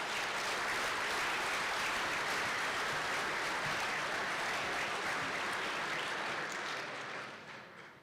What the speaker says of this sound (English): Let's offer this group another well-deserved round of applause for their efforts.